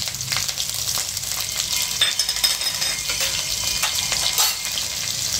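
Cumin, ginger and green chili frying in ghee over low heat, a dense bright crackling sizzle with spatula stirring, close and continuous with no voices.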